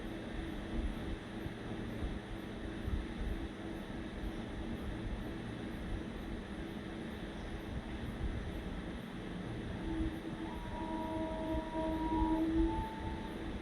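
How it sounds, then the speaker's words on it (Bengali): A passenger train pulls into a station platform in Wardha, Maharashtra, India, heard as a faint, low rumble with some distant tonal squeals toward the end and no clear voices. "আর ফাইনালি কিন্তু আমাদের ট্রেনটা ঢুকে গেছে"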